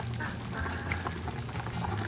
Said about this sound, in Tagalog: alisin ko po yung tubig na to